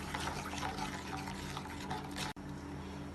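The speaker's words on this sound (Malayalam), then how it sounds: "ഇനി ഇതിലേക്ക് ആവശ്യത്തിന് ഉപ്പ് ചേർത്ത് ഇളക്കി മിക്സ് ചെയ്യാം." Salt being stirred into tomato kurma in a cooking pot: a soft, continuous wet swishing and sloshing, quiet and close, with a brief dropout near the end.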